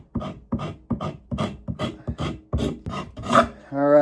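A rasp scrapes across the top of a wooden piece in about ten rhythmic, evenly spaced strokes, close and loud, each a coarse rasping burst, ending in a brief tonal ring.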